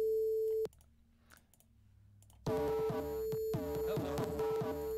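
Default patch of the Bit Invader synth plugin in LMMS: a steady buzzy tone cuts off early, then after a near-silent gap a dense, harmonically rich synth line plays loudly with repeated pitch swoops and no talking.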